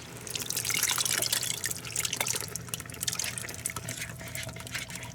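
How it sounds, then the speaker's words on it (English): Liquid pours steadily onto beef stew meat in a Ninja Foodi pot, a continuous close splashing and trickling that fades slightly toward the end, with no talk. "we're going to pour this on the beef stew meat"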